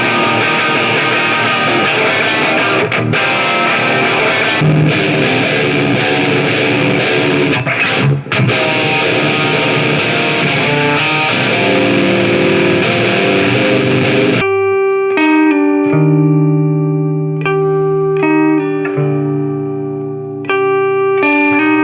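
Electric guitar played through an Electronic Audio Experiments Halberd V2 overdrive/distortion pedal: a thick, sustained distorted chordal wash for most of the passage, then cleaner, sparser picked notes and ringing single tones near the end, loud and close with no talking.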